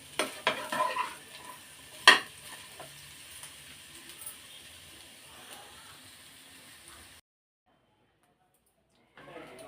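Tempering for a coconut and gooseberry chutney crackles in a pan while a utensil clinks and stirs, with a few sharp knocks early, fading to a faint sizzle before falling silent.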